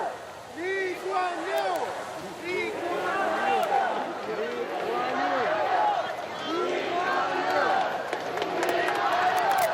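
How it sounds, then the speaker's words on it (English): Crowds lining the streets shout Lee Kuan Yew's name while his state funeral cortege passes, with many overlapping calls rising and falling across a sustained, moderately distant roar of voices. "we can hear the crowds crying out his name, Lee Kuan Yew, as the cortege passes by"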